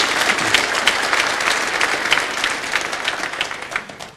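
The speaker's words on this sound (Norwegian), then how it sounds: "Det synes jeg også er noe å klappe for" An audience applauds in the Pentecostal church hall of Filadelfia in Oslo during a 1997 celebration, dense, steady clapping filling the whole stretch and tapering slightly toward the end, with no speech over it.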